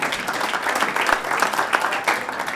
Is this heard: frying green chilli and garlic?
no